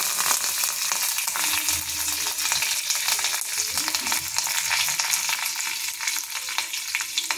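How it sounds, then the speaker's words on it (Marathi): Steady, loud sizzling and crackling of mustard seeds, cumin and curry leaves in hot oil, continuous throughout with a dense hiss and no voices. "आता इथं तेल गरम झालेलं आहे। आता आपण मोहरी घालून घेऊया"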